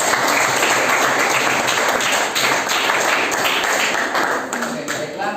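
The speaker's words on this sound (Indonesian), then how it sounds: "Tepuk tangan dulu." Applause in a school classroom during a civics lesson, dense, steady clapping from many pupils filling the room, close and fairly loud, with some voices mixed in.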